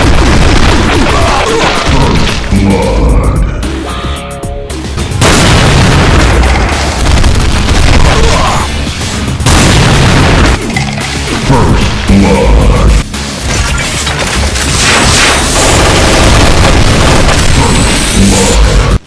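A Cyberdemon firing rockets in a modded Doom game: a loud, almost unbroken barrage of booming explosions and crashing blasts piling on top of one another, with brief dips between volleys.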